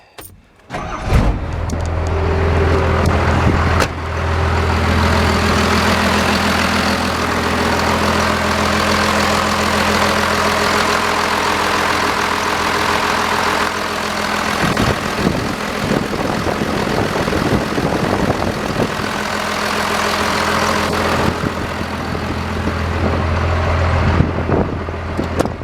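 A Cummins 5.9 12-valve diesel engine idles steadily and loudly up close after a belt tensioner replacement, with a deep, even clatter and hum that runs almost the whole time after a short start.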